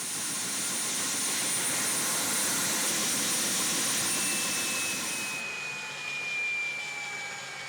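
A helicopter stands close by on the ground at a refuelling stop on South Africa's wild coast, its turbine whine and broad rotor rumble loud and steady, easing slightly in the last seconds.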